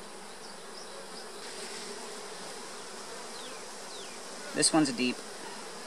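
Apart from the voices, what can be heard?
honeybees buzzing in an opened hive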